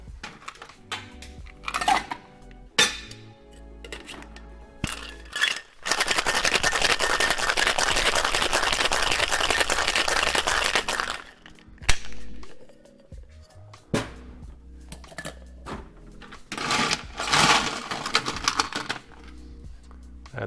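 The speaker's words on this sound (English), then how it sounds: "Add ice to the cocktail shaker and give it a good shake." Ice shaken hard in a cocktail shaker for a vodka cocktail: a loud, dense rattling burst lasting several seconds, framed by scattered clinks and knocks of handling before and after, with no voices.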